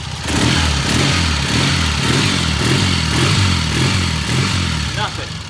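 1978 Triumph motorcycle engine revving in a shop, a loud close throbbing exhaust note rising and falling with the throttle, with people talking over it.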